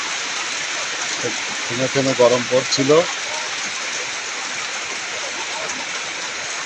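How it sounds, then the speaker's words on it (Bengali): Heavy downpour over Kalua Bazar in Kushtia district, a steady broadband wash of rain hiss filling the whole scene, with a voice talking briefly over it partway through. "মুষলধারে বৃষ্টি নামলো আমাদের কুষ্টিয়া জেলাতে"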